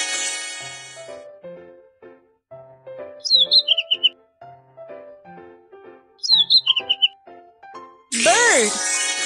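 Bird chirping in a children's video game, two quick clusters of high, bright tweets repeating over a cheerful looping melody, with a burst of other game sound at the end.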